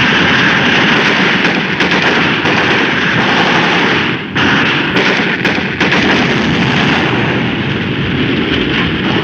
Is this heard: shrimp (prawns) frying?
no